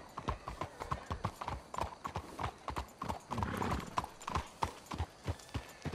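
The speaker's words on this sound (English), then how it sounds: "Let's hitch your horses up ahead." Horse hooves clip-clopping in the Red Dead Redemption 2 video game, a steady rhythmic trot of sharp hoof strikes, close and clear with no other sounds over it.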